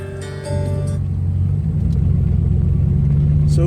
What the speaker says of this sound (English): Let me drive down the street a little bit